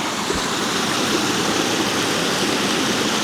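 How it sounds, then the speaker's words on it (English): An ITEHIL portable reverse osmosis drinking water purifier being primed, with a steady, loud rush of flowing water running continuously and evenly without pause. "So I'm going to turn it on and prime it."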